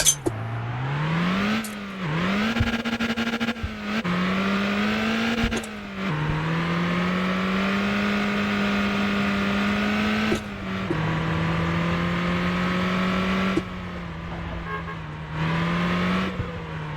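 A car engine in the Motor Town driving game drones and revs steadily, its pitch rising as it accelerates and dipping briefly at gear changes, loud and continuous with no voices.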